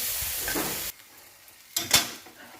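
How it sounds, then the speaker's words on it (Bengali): Sambar masala fried and stirred in a pan: steady sizzling with spoon scraping for about a second, a quiet pause, then a sharp burst of stirring and sizzle that fades. "এই সাম্বার মশলাটা এর মধ্যে দিয়ে দেবো। কষাতে থাকবো।"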